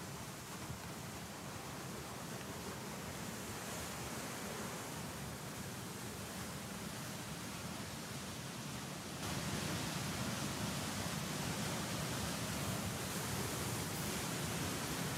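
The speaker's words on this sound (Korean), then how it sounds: "이스라엘의 남단 사막 지역에 갑자기 급류가 형성이 돼서 물이 쏟아지는 장면입니다" Flash-flood water rushes through a desert valley in southern Israel as a dense, steady roar of torrent noise that grows slightly louder partway through, with no voices.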